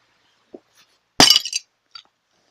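A pane of glass is hit with a brick and shatters in one loud, sharp crash with brief tinkling fragments, set between a few small isolated knocks in otherwise quiet surroundings.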